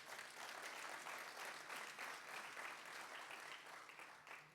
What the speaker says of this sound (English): so extra round of applause, I think,